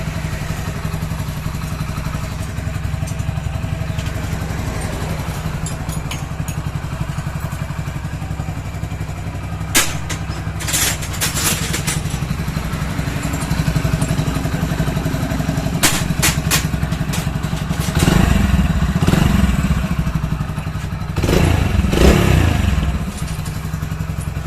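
A Hero Splendor motorcycle engine idles and runs steadily during a gearbox test after repair, with intermittent clunks and clattering thuds, and a couple of louder revving surges near the end.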